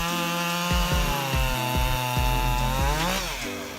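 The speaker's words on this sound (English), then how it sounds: "this chainsaw easily tackles demanding jobs" A Homelite Super XL chainsaw with a 58cc engine cuts through wood, its loud, close two-stroke whine holding a steady pitch with repeated bogging dips as the chain bites, then rising as it clears.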